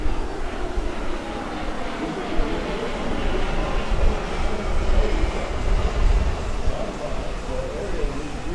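A KC-135R tanker aircraft flies past at an airshow, a broad loud jet roar that swells and sustains across the clip with crowd and announcer noise mixed underneath.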